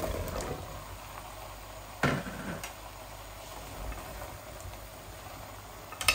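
Chopped bottle gourd tipped into a pan of hot oil and spices, giving a soft, steady sizzle with a brief clatter as the pieces land, quiet and close, with no talking.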